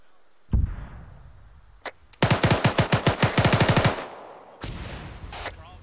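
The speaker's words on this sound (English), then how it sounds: "Shoot the driver out of that vehicle." A loud, close burst of rapid automatic fire aimed at a vehicle driver in the military shooter ArmA 3, about a dozen quick shots in under two seconds, with scattered single thuds and cracks before and after.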